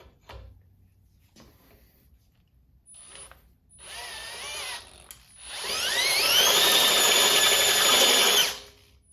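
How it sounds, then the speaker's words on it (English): A step bit drilling out a 5/8 inch hole, likely in a bandsaw part, with a short hesitant burst of drilling followed by a loud, steady whine that rises in pitch and runs for about three seconds before stopping. "I think I have a step bit that size, so let's get it bored out."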